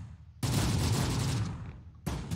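Dense bursts of rifle and machine gun fire in the WWII strategy game Close Combat: The Bloody First, loud and close, one long volley followed after a short gap by a second burst starting.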